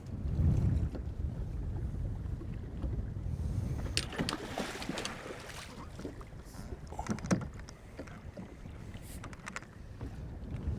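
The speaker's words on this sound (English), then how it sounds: "that wind is really picking up" Wind gusts across a lake heard from a fishing boat: a low, buffeting rumble against the microphone with occasional knocks and splashes, fairly close and continuous, no talk.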